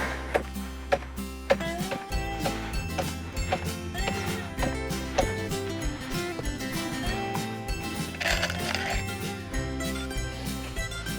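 A powered driver sinks screws into a wooden pallet board on an allotment, its motor whirring and ratcheting in uneven bursts with sharp knocks near the start, close and fairly loud.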